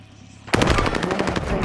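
Automatic gunfire in a Call of Duty match erupts suddenly after a quiet moment, a rapid, loud burst of shots with a rattling rhythm close to the player.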